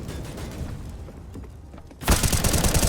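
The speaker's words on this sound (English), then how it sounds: "Now shots ring out." A sudden loud burst of rapid gunshots breaks out in CS:GO after two seconds of quieter, muffled ambience with faint distant shots.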